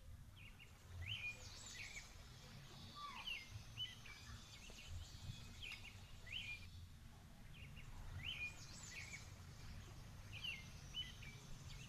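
House sparrows chirp outdoors in short, sharp, repeated calls scattered throughout, fairly faint over a low steady background rumble.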